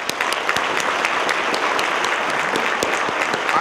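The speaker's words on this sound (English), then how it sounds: "So let's give them a round of applause." Loud, dense applause from the audience at a Long Beach College Promise anniversary celebration, sustained clapping at an even level with sharp individual claps standing out across the whole span.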